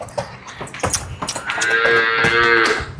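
A young cow lets out one long, loud lowing call up close, after a few seconds of shuffling and clattering.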